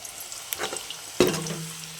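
Rice frying in a pan over a medium gas flame gives a steady close sizzle, with a few brief stirring scrapes and a sharper clatter partway through.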